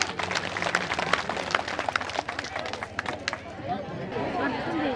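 Audience applause after a dance performance at a women's community event, a dense patter of clapping fading toward the end, with crowd chatter and voices underneath.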